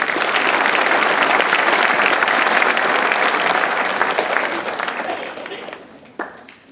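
Applause from a graduation ceremony audience, a dense sustained clapping from many hands that stays strong for several seconds, then thins and fades out, with a single sharp knock near the end.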